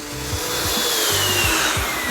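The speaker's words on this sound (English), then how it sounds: "I'll turn the sander and do a couple passes across it the long way" An electric sander fitted with a Uneeda 3x4 sanding kit works across wooden cabinet door panels, a loud, continuous buzzing whir with rhythmic rubbing surges as the pad sweeps back and forth close by.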